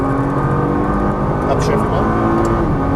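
A Nissan GT-R pulls away at full throttle, its engine droning loud and steady with rising tones, while a person talks over it.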